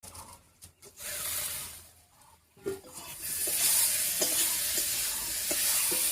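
Potato curry sizzles and fries in a pan as the lid comes off, with scraping stir strokes and sharp clinks of a utensil against the metal over a steady hiss that grows louder near the end.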